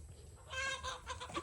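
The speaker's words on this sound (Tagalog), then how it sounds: "Oh yun, nag-aaway pang manok." Chickens squabble at a rural Philippine home, a brief burst of faint, agitated clucking and squawking at a distance.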